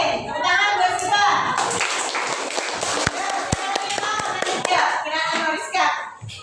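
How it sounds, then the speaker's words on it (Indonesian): Children in a fifth-grade primary school classroom clap their hands together in a burst of applause, mixed with a teacher's voice and kids chattering nearby. "Tepuk tangan buat kita."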